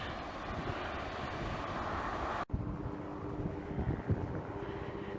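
Wind gusting across the coastal cliffs at Big Sur, a loud rushing roar buffeting the microphone, cut by a sudden brief dropout midway before the blustery rumble resumes.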